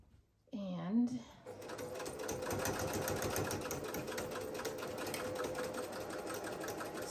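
Sewing machine stitching a tote bag seam, a brief voice at the start followed by a close, steady rapid mechanical chatter of the needle running continuously for several seconds.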